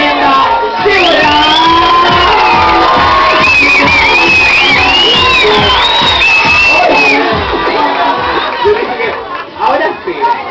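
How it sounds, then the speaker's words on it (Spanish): An audience cheers, whoops and shouts for a dancer being introduced at a live show, a loud, dense crowd roar with rising yells that stays strong before easing toward the end. "Un fuerte aplauso"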